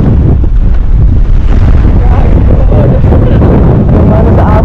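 Very strong super-typhoon wind at Pagudpud during a motorcycle camping trip roars loudly and without a break, buffeting the microphone.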